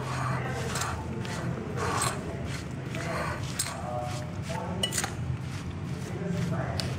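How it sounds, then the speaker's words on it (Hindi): Okra being mixed with spices and gram flour by hand in a bowl, with soft rustling, rubbing and light clinks of utensils against the dish, close and continuous. "इसको अच्छी तरह मिक्स कर लीजिए"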